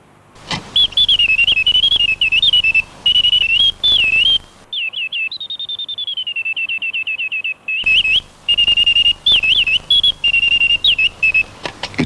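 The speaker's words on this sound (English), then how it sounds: "the bird's trill is produced on the penny whistle principle, with wind from a tiny pair of clockwork-operated bellows" A clockwork automaton bird, worked by tiny clockwork-driven bellows, trills loudly and close through a penny-whistle mechanism, in bright warbling bursts with brief pauses and one long sliding whistle in the middle.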